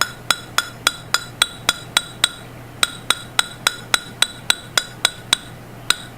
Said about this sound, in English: here I'm doing random hammer strikes to break up that pattern even more